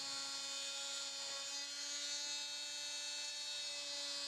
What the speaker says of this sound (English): the vibrations from the oscillation cut very, very nicely through plexiglass